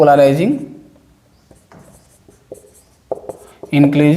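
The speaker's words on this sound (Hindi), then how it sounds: "मैं शॉर्टकट लिख दे रहा हूं" A chemistry teacher writes on a board during a class lesson, giving faint scratchy strokes in the middle of the clip, while a voice speaks before and after.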